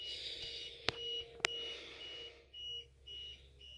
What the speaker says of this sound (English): the UPS is constantly beeping